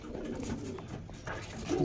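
A pigeon coos in short, close, throaty phrases, repeated a few times in quick succession with no voices.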